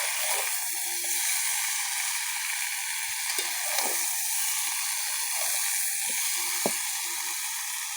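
Vegetables fry with turmeric and chilli in a pan, giving a steady broadband sizzle that runs throughout, with a few soft clicks of stirring scattered on top and no voices.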